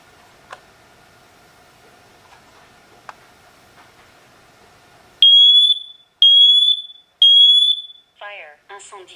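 A SITERWELL hardwired interconnected smoke and carbon monoxide alarm gives three loud, shrill, evenly spaced beeps after a quiet stretch with faint clicks, followed by the start of a spoken warning.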